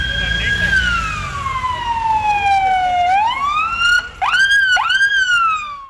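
Police, fire and ambulance sirens wail and sweep loudly nearby as emergency teams arrive, with falling and rising tones that shift into quick yelps toward the end.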